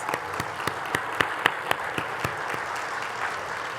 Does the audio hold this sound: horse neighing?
no